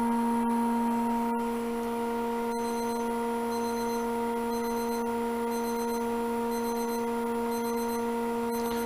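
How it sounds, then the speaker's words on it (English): Kitchen-style timer beeping near a woodworking lathe, a steady electronic tone held under repeated short beep pulses in an even rhythm, fairly quiet with a few sharp clicks, no speech. "That's my timer going off"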